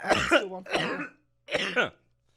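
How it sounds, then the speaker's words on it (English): Three harsh, raspy coughs in quick succession, close and loud, separated by brief silences. "I can understand why non-smokers get so nervous when you start coughing like that"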